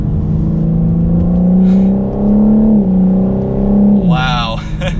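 A 2021 BMW M4 Competition engine pulls strongly through a left turn, its steady rising drone sustained for several seconds before easing and shifting tone near the end, heard from inside the cabin with a voice talking over it.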